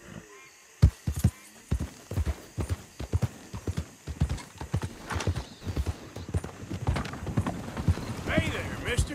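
Horse hooves in Red Dead Redemption 2, starting with separate clops that quicken into a steady galloping rhythm, with a short snort or whinny near the end.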